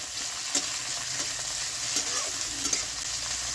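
Pathor chata fish frying lightly in a pan with garlic, green chilli and tomato, giving a steady, close sizzle with occasional stirring clicks and scrapes throughout.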